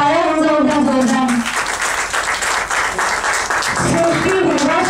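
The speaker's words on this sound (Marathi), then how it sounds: "त्यांच्याकरता टाळ्या वाजवतात जोरदार" An audience at a poetry gathering bursts into loud applause that fills the middle of the clip, with a voice speaking before it and again as it fades.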